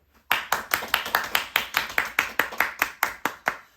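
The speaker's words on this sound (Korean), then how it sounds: "우리 다 같이 박수로 축하하겠습니다" A church congregation claps in unison to celebrate a member's birthday during a Sunday service, about sixteen sharp, evenly spaced claps in a steady rhythm, close and clear with no talking.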